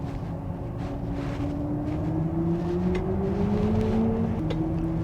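A 2022 BMW iX electric SUV accelerating, its electric motor giving a steady rising whine over continuous road and cabin rumble, heard from inside the car.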